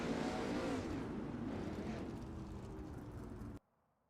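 Outlaw 410 sprint cars warm up at Kokomo Speedway in iRacing, a loud, steady roar of several engines that continues for about three and a half seconds and then cuts off abruptly to silence.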